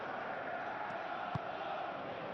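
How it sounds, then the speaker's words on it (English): A stadium crowd in the football video game PES 21 roars as a dense, steady wash of distant chanting and noise, with a brief thump standing out partway through. "The crowd are calling for this to be put to bed."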